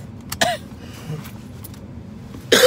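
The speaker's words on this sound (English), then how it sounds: "This nagging cough." A man's nagging cough comes through as a couple of short, sharp bursts, one early and a louder one near the end, over quiet room noise.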